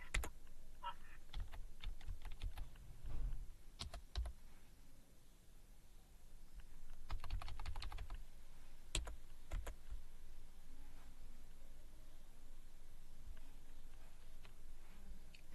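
Quiet typing on a computer keyboard, irregular bursts of clicking keys separated by brief pauses, close and soft against a faint background hiss.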